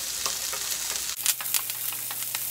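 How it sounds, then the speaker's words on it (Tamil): Chopped onions with curry leaves and a dried red chilli frying in hot oil in a pan, a steady close sizzle with light stirring clicks, growing louder and crisper about halfway through. "வெங்காயம் கொஞ்சம் நல்லா வணங்கட்டுங்க."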